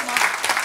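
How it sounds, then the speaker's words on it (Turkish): Brief burst of audience applause at a quiz night, dense and loud clapping from a nearby crowd lasting under a second. "Nitro ve Vazios'u da alkışlayalım."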